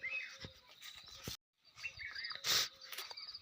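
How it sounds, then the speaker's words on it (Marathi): Small birds chirp and tweet faintly in the distance, scattered short calls over quiet open-air background with one brief gap of silence. "बारीक तुम्हाला पक्ष्यांचा चिवचिवाट ऐकू येत असेल"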